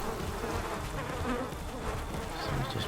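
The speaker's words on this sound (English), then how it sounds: "Flies this time." Flies buzzing close and steady, a continuous insect drone with slight wavering in pitch and no voices over it.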